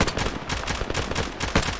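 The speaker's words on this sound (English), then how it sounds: "Shooting with your fucking 9mm." Rapid 9mm pistol gunshots fire in a video game, loud, dense and continuous, with shots running together across the whole stretch and no talking.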